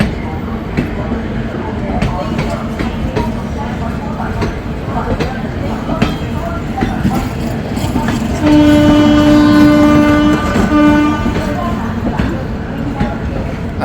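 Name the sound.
train departing from platform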